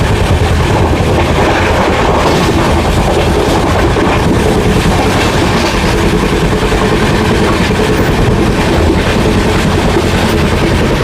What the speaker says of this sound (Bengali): ফুল 110-এর র্যাম্পেজ স্পিডে টানছে আমাদের এই ট্রেন।